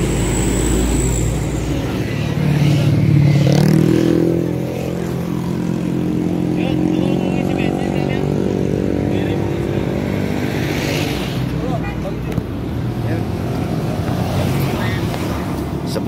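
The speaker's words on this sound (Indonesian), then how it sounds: "Sepuluh motor." A group of about ten scooters rides in convoy to a scooter gathering in Lampung, giving a steady engine drone under heavy wind buffeting on the microphone, with a brief louder engine swell early on.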